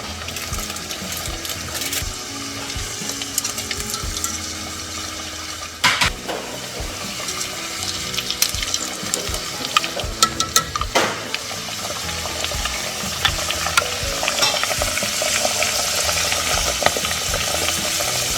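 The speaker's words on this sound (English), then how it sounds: "We're gonna go ahead and put our empanadas in. We're just gonna put in a couple in at a time." Turkey empanadas deep-frying a couple at a time in 350-degree oil, a loud continuous bubbling sizzle with sharper crackles and clatters as pieces go in, no voices.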